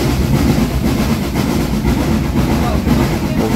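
A Southern Railway U class steam locomotive hauls a passenger train, heard from aboard as a continuous rumble and rattle of the moving carriages with a steady running beat, while a voice speaks over it.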